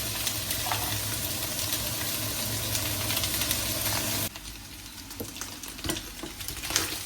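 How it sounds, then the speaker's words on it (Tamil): Paneer pieces frying in hot oil in a pan for a curry, a dense continuous sizzle that drops somewhat quieter midway, with occasional pops and crackles. "அதுக்குள்ள போட்டு கொஞ்சம் பொரிச்சு எடுப்போம்."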